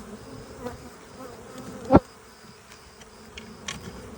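Honeybees buzz around a hive box close by in a steady hum, with one sharp click partway through.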